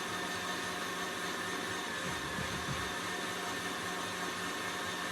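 A stand mixer runs on high with its whisk attachment while butter is mixed in, a steady broadband whirring drone holding evenly throughout at moderate level, with no talk.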